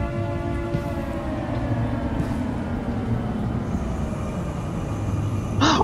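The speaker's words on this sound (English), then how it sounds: "And what is with the World War II sirens?" A low wailing World War II air raid siren drones continuously with a rumbling undertone, ending in a brief sharp burst.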